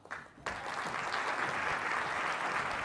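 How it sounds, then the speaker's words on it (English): Audience applause at a tech summit as speakers walk on stage, a few scattered claps swelling abruptly into steady, full clapping from the crowd. "give them a big warm round of applause as they enter the stage"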